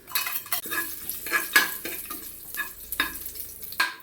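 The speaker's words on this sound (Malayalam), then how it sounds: "നെയ്യ് ചൂടായി കഴിയുമ്പോൾ മസാലക്കൂട്ട് അതായത് പെരിഞ്ചീരകം കറുവാപ്പട്ട ഏലക്ക ഒരു പാക്കറ്റിനകത്ത് കിട്ടത്തില്ലേ എല്ലാം കൂടിയിട്ട് നന്നായിട്ട് ഇളക്കിയെടുക്കും" Whole spices, fennel seed, cinnamon and cardamom, are stirred in hot ghee in a pan. A spoon scrapes and clinks against the pan in regular strokes over a light sizzle, close up, with no voices.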